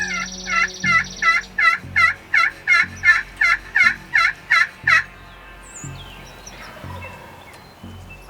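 A rapid series of about eleven loud, evenly spaced wild turkey yelps over five seconds during a turkey hunt, calling to attract a hen, then quiet outdoor ambience with faint rustling.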